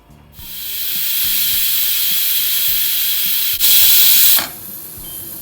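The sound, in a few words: pressure cooker whistle releasing steam while cooking yam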